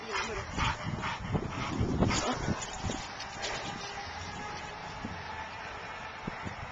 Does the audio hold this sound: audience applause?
no